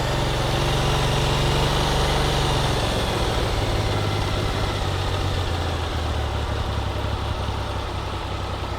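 A car engine with a freshly replaced crank position sensor idles steadily and loudly on choke after starting. Its low rumble settles to a smoother, slightly lower drone as it warms, with no talking.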